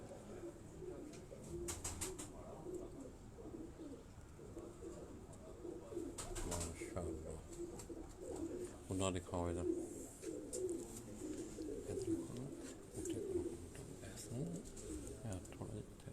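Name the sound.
pigeons cooing on rooftop loft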